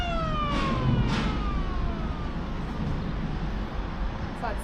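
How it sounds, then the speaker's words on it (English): A siren sounds at a canal bridge to warn that it is about to open, its wailing tones gliding downward over steady broadband rumble, moderately loud and heard from some distance. "the siren's just gone off, so that must mean that the bridge is going to open soon"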